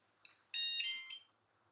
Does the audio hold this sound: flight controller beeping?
yes